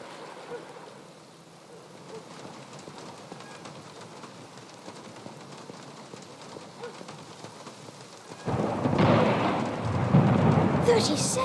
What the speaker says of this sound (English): Are you counting the thunder?